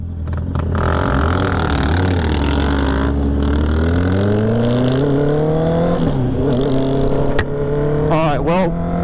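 A small motorcycle, a Honda Grom clone, rides off, its engine droning loud and near, rising in pitch as it pulls away, with talk over it.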